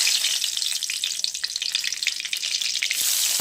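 Whole cumin seeds and bay leaves sizzle and crackle steadily in hot oil in a pan for chicken curry, a dense, close, continuous hiss with scattered sharp pops and no voices.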